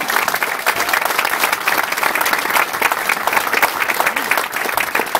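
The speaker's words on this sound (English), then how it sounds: "To Mr. Mark Campbell and his team that put this together, a round of applause, please." Audience at a military medical training center ribbon cutting gives a round of applause to the organizer and his team, loud dense clapping sustained throughout with a faint crowd murmur.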